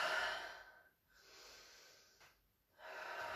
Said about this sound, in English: Again, breathe deep.